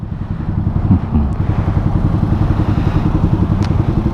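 A motorcycle engine on a Thai road runs loud and close with a steady, throbbing rumble that holds throughout.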